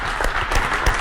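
A short burst of audience applause at a book presentation, a dense, fairly loud patter of many hands clapping with no voices.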